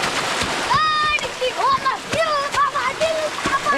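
Water splashing and sloshing as people bathe and duck under the outflow of an irrigation pump motor in a farm field, with excited voices and chatter running over the splashes throughout.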